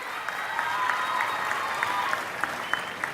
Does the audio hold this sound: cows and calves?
no